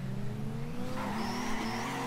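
Engine note from a car in the Torque Drift video game, a steady revving whine holding high with tire squeal and skid noise layered on top, continuous and loud throughout a short stretch, with no voices.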